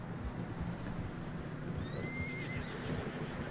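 Horses whinnying in Red Dead Redemption 2, a long rising neigh standing out over a constant low rumble of hooves and travel noise, with no talking.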